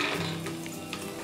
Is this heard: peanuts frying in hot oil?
yes